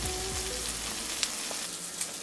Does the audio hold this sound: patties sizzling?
yes